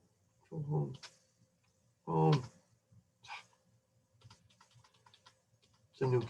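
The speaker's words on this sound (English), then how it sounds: "It's a new keyboard." Sparse, soft key clicks tap away on a keyboard, broken up by short bursts of a nearby voice.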